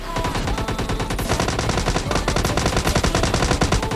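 Rapid automatic gunfire during a fight in PUBG Mobile Lite, dense overlapping bursts of shots that stay loud and continuous throughout.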